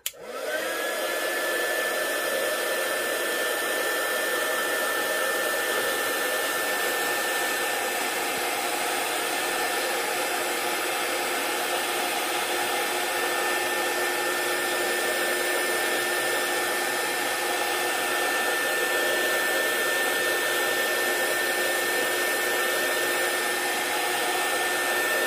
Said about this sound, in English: So let's heat it up, then you can see something.